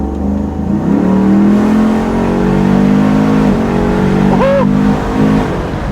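Restored classic truck, a 1971 Ford Bronco or 1972 Chevy K5 Blazer with an LT1 crate motor and 10-speed transmission, accelerating hard with a loud rising engine roar, a quick upshift midway, then pulling again.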